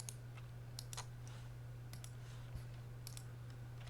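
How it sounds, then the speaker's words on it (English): Faint, quick papery clicks and riffles of card decks being shuffled for a Lord of the Rings card game, irregular soft snaps over a low steady hum. "We'll get the decks shuffled up."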